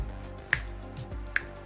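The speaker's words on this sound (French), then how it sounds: "Le petit claquement de doigts." Two crisp finger snaps about a second apart in The Binding of Isaac: Afterbirth+, sharp and clear over a low game background hum.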